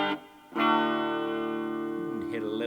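Guitar played through a tiny Leo Jaymz wooden amp with the reverb on, a single sustained chord ringing out and slowly decaying after a brief pluck, up close.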